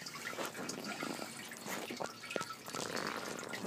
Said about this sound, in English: The little floating pump that pumps the water up into the filter box.